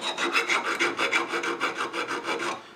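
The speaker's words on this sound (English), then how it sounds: "we'll just put a bit of filler in there and file again" A hand file rasps back and forth over filler on a lead figure being restored, in steady even strokes of about five per second, close and continuous with no talk.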